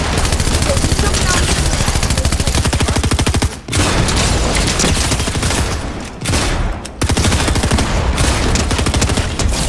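Dense, sustained video-game gunfire from a sniper engagement, loud and continuous with rapid repeating shots and brief gaps, heavy and close throughout.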